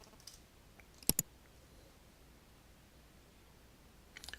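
Two quick computer mouse clicks in close succession, crisp and near against a quiet room hiss, with faint soft clicks at the very end.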